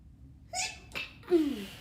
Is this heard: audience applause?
no